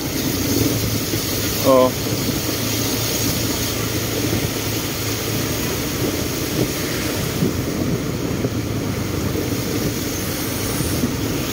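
A motorcycle engine rumbles steadily while riding slowly through flood water on a Cavite road after a storm, blended with wind buffeting and water noise, plus a brief tonal chirp near the start.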